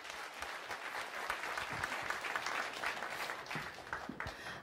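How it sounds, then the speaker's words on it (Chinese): An audience at a women's nine-ball billiards event applauds steadily, a sustained wash of clapping from many hands in an indoor hall. "我们再次把掌声送给"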